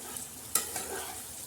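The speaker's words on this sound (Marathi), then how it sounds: "काळ्या मसाल्याचं कारलं आता मस्त असं हलवून घ्यायचं." A spoon stirs bitter gourd coated in black masala in a pan: faint scraping and a soft sizzle, with one sharper scrape partway through, close and quiet.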